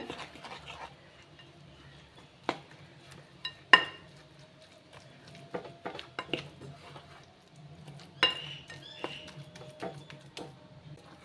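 Poha batter being mixed with filtered sugar syrup in a bowl, with scattered clinks and scrapes of a spoon against the dish and soft stirring between the sharper knocks.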